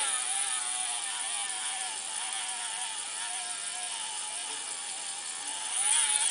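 A small DC motor driven by a TB6612 driver whirs steadily under load, a high buzzing whine with a slight wavering pitch, fairly close, rising a little louder near the end, with no talk.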